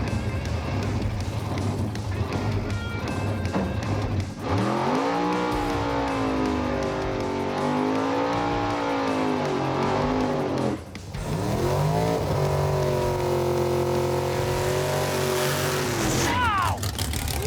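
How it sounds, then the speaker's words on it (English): A race car doing a burnout, Blasphemi versus F Rod: a loud, sustained engine roar with revving swells and squealing tires, the pitch dipping and climbing twice with a brief break midway. "Wow! What a burnout!"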